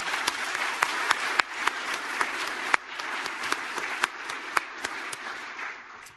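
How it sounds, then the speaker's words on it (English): An audience at a regional technical session applauds the panelists, a steady round of clapping with sharp individual claps standing out throughout. "Please join me in a round of applause for the panelists."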